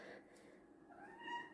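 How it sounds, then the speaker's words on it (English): A house cat lets out a brief, faint meow, a short drawn-out cry heard softly in a quiet room. "That was my cat."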